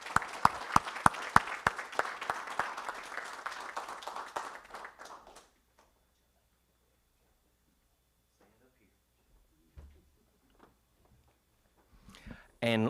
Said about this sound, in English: a big round of applause for Mike